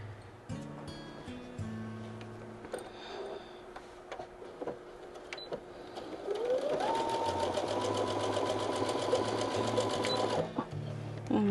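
A sewing machine chain-pieces fabric pieces, starting with short bursts of stitching and then running in a steady, fast, loud whir for several seconds before stopping.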